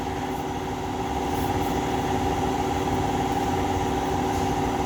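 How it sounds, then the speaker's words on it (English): Two loud air compressors running together in a workshop during restoration painting of a Farmall Super C tractor, a steady droning hum with a constant mechanical buzz, close and unbroken. "both the world's noisiest compressors just kicked on"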